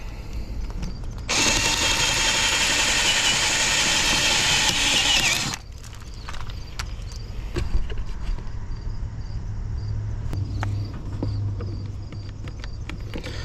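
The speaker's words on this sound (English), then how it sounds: "We are having to drill the ignition switch out" A loud, steady drilling whine as a pontoon boat's ignition switch is drilled out runs for about four seconds, then stops, followed by quieter clanks and mechanical rattling close by.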